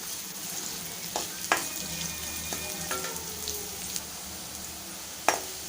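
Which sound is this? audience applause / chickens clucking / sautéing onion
sautéing onion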